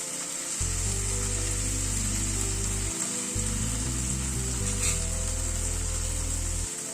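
Tomato fries in a pan with a steady, rain-like sizzle and occasional stirring, heard beneath loud background music with a deep bass line.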